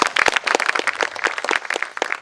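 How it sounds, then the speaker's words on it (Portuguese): Audience applause at an African Women's Day commemorative event, a dense, close patter of many hands clapping steadily for a couple of seconds. "Mais uma salva de palmas"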